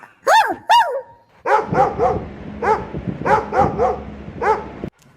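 A dog barks repeatedly nearby, two sharp high barks followed by a rapid series of loud yipping barks in an uneven rhythm.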